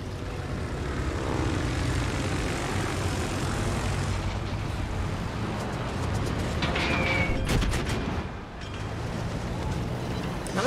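Propeller skip bomber aircraft in the naval combat game World of Warships, its engine droning loud and steady for the whole stretch, swelling briefly near the end.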